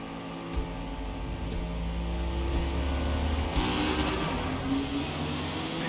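A car accelerates in Forza Motorsport racing, engine tone climbing and rising in pitch with gear changes, close and steady, with rain-like hiss behind and no talking.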